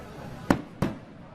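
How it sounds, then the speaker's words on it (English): Two sharp fireworks bursts from a display over a country town crack out in quick succession less than a second apart, each loud and close with a brief ringing tail fading into soft background noise. "The fireworks for a country type town were certainly spectacular."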